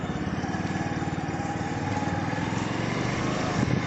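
A Bajaj CT100 motorcycle engine running close by, a steady putter with fast regular pulsing at a constant speed, no talk.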